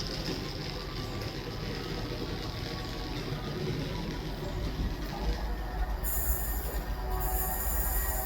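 A train rolls slowly through Selly Oak station, its wheels squealing against the rails in a steady, loud metallic screech over the constant low rumble of the carriages, with no talk.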